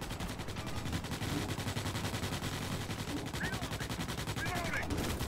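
Rapid pistol fire in the Starship Troopers: Extermination shooter game cracks out in a steady stream of close shots over a constant background of battle noise and distant gunfire.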